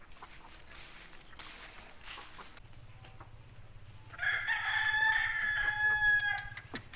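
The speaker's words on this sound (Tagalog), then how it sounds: "4 na manok lang naman yung patutukain ko" Backyard chickens, four hens being fed, cluck softly at first, then a loud rooster crow rings out close by over a low steady hum, with further clucks around it.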